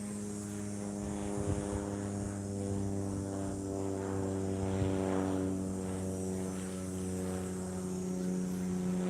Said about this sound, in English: that's not your normal run-of-the-mill plane that flies around here